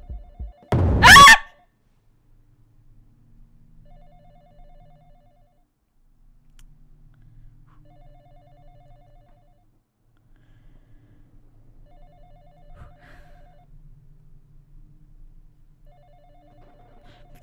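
A telephone ringing in the horror video game Exanimum: The Silent Call gives one loud, brief ring near the start, followed by a long stretch of faint, quiet ambience.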